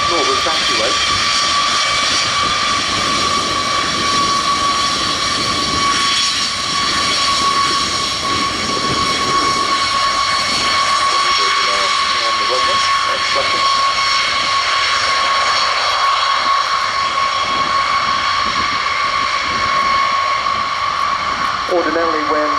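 A B-52 bomber taxiing at the RIAT 2023 airshow, its jet engines giving a loud, continuous roar and whine that holds steady throughout, with some faint voices beneath.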